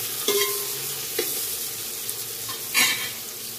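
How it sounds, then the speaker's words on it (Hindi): Sliced onions, four to five of them, frying in hot oil for mutton biryani, a steady close sizzle with a few brief stirring clatters, no talk. "जिसके अंदर हम लोग ये देखिए स्लाइस की हुई 4 से 5 प्याज ऐड कर देंगे।"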